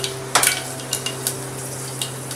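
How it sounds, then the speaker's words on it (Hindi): Fenugreek seeds pop and crackle in hot oil inside a pressure cooker, a faint steady sizzle broken by a few sharp close spits and clicks, with no talking. "मेथी दाना चिटक चुका है"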